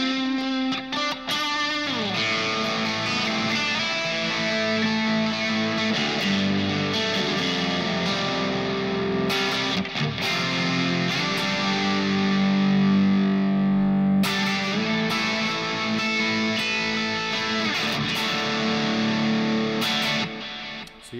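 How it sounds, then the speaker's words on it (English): Distorted electric guitar played through a Kemper amp profiler on a Marshall JVM Orange Channel 1 preset. Sustained, loud chords and bends ring on continuously for about twenty seconds, close and with no talking. "Rocking that same Marshall JVM Orange Channel 1 preset that I was rocking last week"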